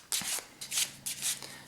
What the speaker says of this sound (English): place it back in the deck, and you can give it a little shuffle if you want